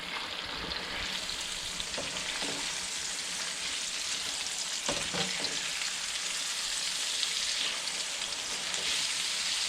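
Speckled trout fillets just flipped in a pan, frying with a steady, fairly quiet sizzle and crackle throughout, plus a few soft clinks and scrapes.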